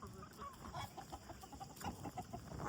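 Desi gavran hens on a backyard poultry farm make faint, continuous clucking and low murmuring calls. Several birds overlap at close range.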